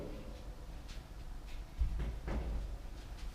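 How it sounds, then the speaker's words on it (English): Plastic front cover pried and pulled off a failing hotel or apartment wall air conditioner, a few close clicks and clunks with a heavier thump partway through, no talking. "if I take off the front cover"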